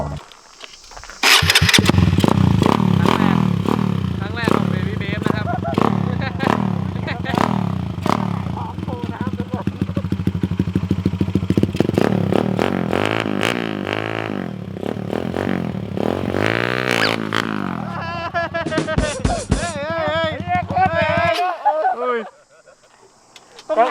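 Motorcycle with a large rear sprocket, used for wheelies, revving hard over and over: loud, close engine howls that climb and drop in pitch, with brief gaps and a sudden cut near the end.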